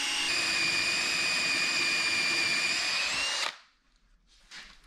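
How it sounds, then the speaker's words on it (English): A power drill whines steadily at close range for about three seconds while drilling out car suspension bushing holes, then stops abruptly, leaving near silence with a few faint clicks. "Now we drill to the bottom of the hole."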